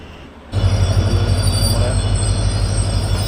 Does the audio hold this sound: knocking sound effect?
no